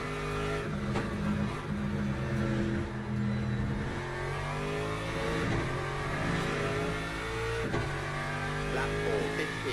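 An Aston Martin race car engine in the video game Le Mans Ultimate revs up and down continuously, shifting pitch as it accelerates, loud and close throughout.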